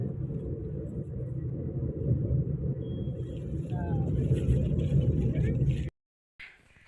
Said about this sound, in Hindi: तो दोस्तों हम बैठ चुके हैं अपनी गाड़ी में, और गाड़ी में बैठ के आपको रास्ते का नज़ारा दिखाते हुए जाएंगे